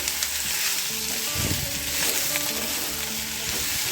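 Ivy gourd palya, fried in a pan with peanuts, sizzles loudly and continuously close by, with soft stirring scrapes mixed into the steady hiss.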